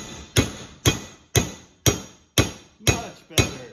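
Seven sharp hammer strikes on metal while rebuilding a Mopar A833 four-speed transmission, evenly spaced about half a second apart, each a bright ringing clank that decays quickly, close by with no talking.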